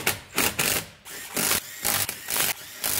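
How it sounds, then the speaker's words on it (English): A small, low-torque impact wrench drives wheel bolts home on a 2011 Honda CR-V AWD during rear brake work, firing repeated short rattling bursts in quick succession, close and loud, with no talking. "take a small ugga-dugga gun that doesn't produce much torque and fire all these bolts home"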